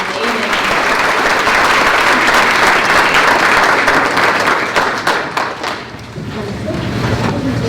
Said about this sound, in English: Let's give him one more round of applause.